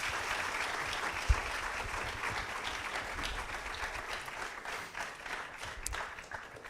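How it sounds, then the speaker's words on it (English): An audience at a college science talk gives a round of applause, steady moderate clapping from a crowd that holds for several seconds with one sharp knock near the start. "please, round of applause for everything."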